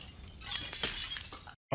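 Glass shatters in a dramatic TV series scene, a loud close crash with scattered tinkling fragments that cuts off abruptly into silence.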